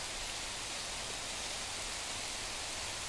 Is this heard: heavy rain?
yes